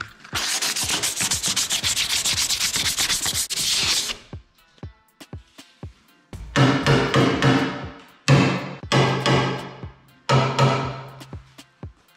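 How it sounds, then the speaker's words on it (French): Coarse 80-grit sandpaper scrubs a surface before filler goes on, first in one long steady run of fast rhythmic strokes, then in several shorter loud bursts with brief pauses, close up and with no talking. "Avant de mettre le mastic, on va créer une accroche avec du gros grain, donc du 80"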